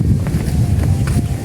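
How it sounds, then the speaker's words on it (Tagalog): Strong wind gusting outdoors at a high spot, buffeting the microphone with a steady low rumble and roar throughout, with no voices over it. "lakas na ng hangin."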